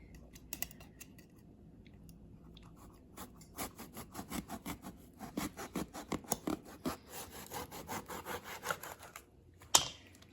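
Knife cutting eggplant into even slices on a board, a quiet close series of crisp cutting strokes that quicken into a steady rhythm, ending with a sharper knock.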